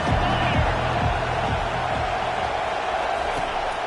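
A packed stadium crowd roars in a PS5 football video game, making a dense, loud, continuous wash of noise with low rhythmic thumps early on and a voice talking over it.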